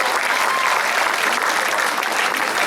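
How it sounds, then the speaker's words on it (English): An audience at a varsity awards ceremony breaks into applause, a dense, even wash of clapping from many hands that stays loud and steady throughout. "so big round of applause for Bravo."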